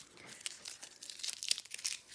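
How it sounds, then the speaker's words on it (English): Soft, crackly peeling and crinkling noises, quiet and close, with small irregular bursts as something sticky is pulled away. "so we're gonna pull up our little tapes."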